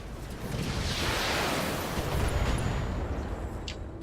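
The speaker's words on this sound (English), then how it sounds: "Oh, fuck! Ammo explosion!" Mech ammunition cooking off in the BattleTech video game, a sustained, rumbling roar of blasts that swells and holds across the whole stretch, with a few sharp crackles near the end.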